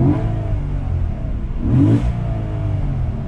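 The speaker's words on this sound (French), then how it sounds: "Écoutez-moi ça au neutre les gars." A 2013 Porsche Panamera GTS engine revs in neutral, a deep steady drone with a swelling blip of throttle near the middle, close and loud with no talk.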